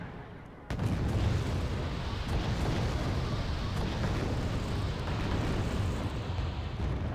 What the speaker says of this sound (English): Oh no, they're mortars, never mind.